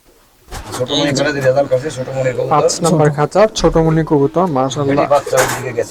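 Pigeons coo close by in soft, repeated calls that blend with continuous talk running throughout.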